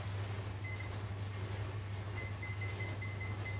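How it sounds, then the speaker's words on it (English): A kitchen timer for baking brownies gives short, high electronic beeps in two bursts as it is set, over a steady low appliance hum. "timer and I'm going to set it for 18"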